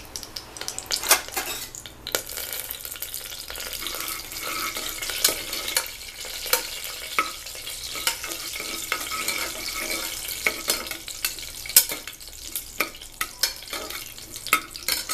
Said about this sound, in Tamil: இப்போ நெய் காஞ்சதும் நம்ம அந்த முந்திரி திராட்சை போட்டு பொன்னிறமாக வறுத்து எடுத்து வச்சுக்கலாம்